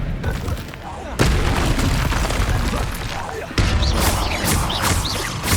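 Hogwarts Legacy spell combat bursts with a heavy Expelliarmus boom, followed by loud layered impacts and crackling magic effects in two sharp waves, with some voices shouting during the fight.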